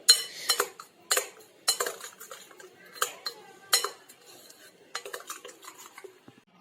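Spices and mustard oil being mixed in a bowl with a metal spoon, repeated clinks and scrapes against the bowl in irregular bursts, close and moderately quiet, with no speech.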